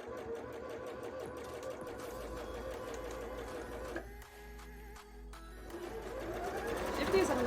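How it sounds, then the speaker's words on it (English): A sewing machine runs a long straight stitch on a bra, its steady mechanical whirr near and continuous, pausing briefly before starting up again, with someone talking over it. "Okay, I'll do straight stitch, but I'll do long straight stitch."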